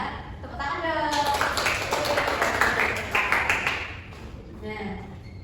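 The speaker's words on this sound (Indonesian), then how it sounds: "Tepuk tangan dong." A group of students in a classroom clapping their hands in a short burst of dense, rapid applause lasting a few seconds, close by, with voices speaking before and after.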